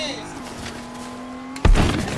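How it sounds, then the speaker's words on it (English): In a video game, a car's engine hums steadily as it approaches, then roars past close by with a sudden loud burst and a tire-squeal edge, while voices talk over it. "Oh, there's a car over here."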